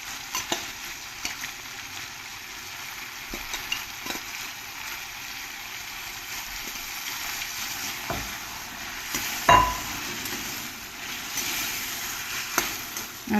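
Jackfruit pieces fry in a pan with a continuous soft sizzle, broken by occasional clinks of a spoon or spatula and one louder stir partway through.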